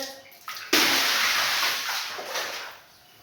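Water rushes and splashes across a tiled floor being washed, a sudden loud gush that continues steadily before trailing off.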